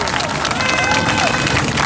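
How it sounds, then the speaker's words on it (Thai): A crowd at a Thai anti-government protest rally claps and cheers in a dense, continuous roar, with loud babble of voices mixed in for the whole stretch. "ปรบมือให้พี่น้องที่สู้ด้วยกันหน่อย"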